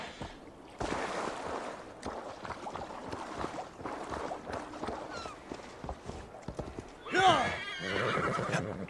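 In the video game Assassin's Creed Valhalla, a horse's hooves clip-clop in a steady running rhythm, followed by a loud, close neigh. Faint talk can be heard underneath.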